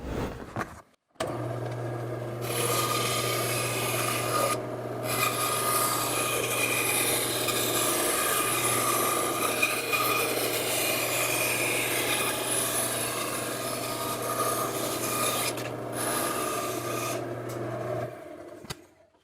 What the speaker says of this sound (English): And now I can cut out this station.